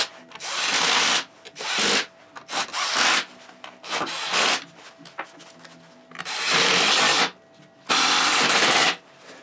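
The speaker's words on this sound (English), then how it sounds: "Now we can put the bolts in that go all the way around and torque them down to 20 to 25 foot-pounds." Bolts around a Jeep transfer case are run down by a power tool in repeated loud bursts of about a second each, with brief gaps between them and no talking.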